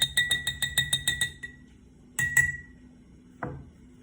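A spoon clinks rhythmically against a glass while stirring a homemade lava lamp mixture, about eight bright quick taps, then a pause, two more clinks and a final single tap.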